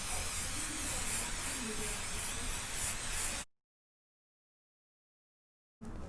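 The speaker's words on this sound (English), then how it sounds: "grabbing your 505, spraying the back of your fabric and the batting" 505 spray adhesive hisses from an aerosol can onto quilt fabric and batting, one long steady close spray, then silence before a second short burst begins.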